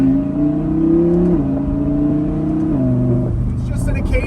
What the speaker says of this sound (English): Just listen to these downshifts. It just like barks.